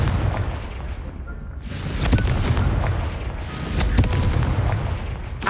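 Confringo blasting spell explosions in the Hogwarts Legacy video game, two loud booming bursts a couple of seconds apart over a rumbling, crackling background with no talk.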